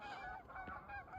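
Birds flying through heavy snowfall give harsh, goose-like honking calls, several overlapping cries in quick succession that sound fairly close and carry clearly with no talking.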